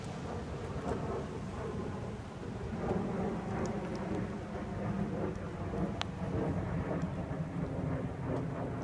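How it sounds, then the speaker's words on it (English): Light rain falls at a coastal overlook at Watsons Bay, Sydney, a steady dense patter with low rumbling wind, continuous and fairly close with no talk. "Raining a little bit."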